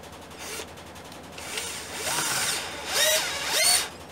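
A Mondial impact drill-driver on its lowest speed drives a long screw into a short piece of wood, giving close whirring bursts that rise and strain as the screw bites, with a brief pause between runs.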